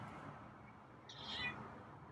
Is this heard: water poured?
no